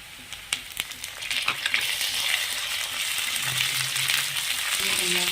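Cauliflower and potato curry frying in a pan starts with a cluster of sharp spoon knocks, then settles into a strong continuous sizzle and crackle that runs to the end without talk.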